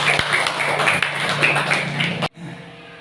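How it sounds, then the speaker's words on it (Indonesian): A classroom of students applauding together, dense quick claps that hold steady for about two seconds and then stop abruptly, leaving a quiet room. "Tepuk tangan buat kita semua."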